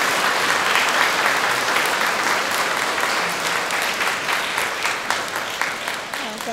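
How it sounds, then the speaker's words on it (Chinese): Sustained audience applause fills a university Christmas concert hall as the Taipei sacred music choir is welcomed, a dense, even patter of many hands lasting several seconds with no talk over it. "我们掌声欢迎我们的台北圣乐团。"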